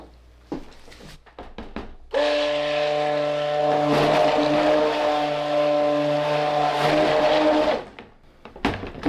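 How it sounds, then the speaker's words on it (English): A stick blender whirs steadily for about six seconds while mixing a batch of cherry-scented cold process soap, a loud motor hum with a strong tonal whine that starts abruptly and cuts off, with brief handling knocks before and after. "this stick blender is going to be quite powerful for the amount of soap I have here"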